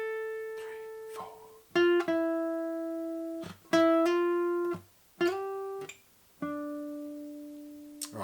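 Electric guitar plays a solo, with clean sustained single notes joined by slides and hammer-ons in a slow, phrased melody, loud and alone.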